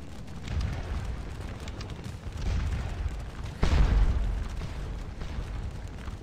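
Napoleonic-era artillery batteries fire on enemy infantry squares in the Waterloo battle game, sending rolling booms over a constant low battlefield rumble, with one heavier blast standing out partway through.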